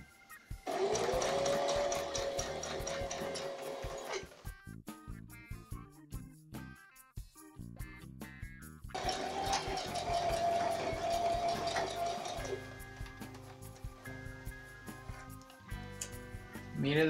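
A sewing machine runs a wide zigzag stitch along a jogger in two long motorized bursts, buzzing steadily and close, separated by a pause filled with clicks and handling noises.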